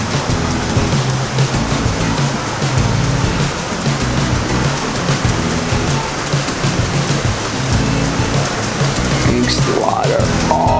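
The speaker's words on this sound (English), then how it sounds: "So this water wheel" Water splashes from the water wheel at the Swiss Family Treehouse in Disney World's Magic Kingdom: a constant, dense rush of falling water, loud and steady throughout with no pause.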